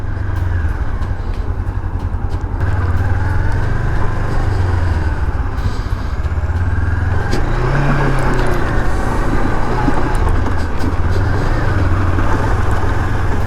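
A Honda CB500X with a Rally Raid Level 1 setup climbs a rough quarry track near Dove Holes, its engine holding a continuous, loud drone throughout with slight pitch shifts midway.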